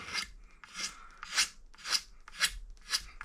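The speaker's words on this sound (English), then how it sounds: "I start with the blade a little bit flatter and then kind of work up" A blade scraping wood while scalloping a Fender Stratocaster-style guitar neck, with six rhythmic rasping strokes close up, each swelling and fading, with no talk.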